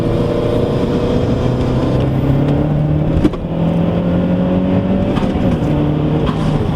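A Mazdaspeed 3 engine drones loudly and steadily as the car pulls hard, its rising tone climbing through gears with a brief break partway, heard close from inside the cabin with no talking.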